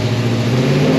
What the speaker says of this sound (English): how hard this car is gonna pull off the line